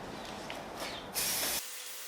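A short burst of aerosol spray paint hissing close by onto a Volkswagen Golf GTI Mk4 spoiler, lasting about half a second, then stopping abruptly.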